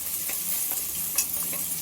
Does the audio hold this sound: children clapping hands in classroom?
no